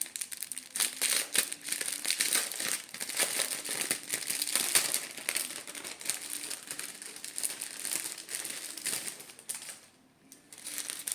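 A plastic packet holding diamond painting rhinestones is opened by hand, giving close, busy crinkling and rustling that crackles on and off, with a short pause near the end and no talking.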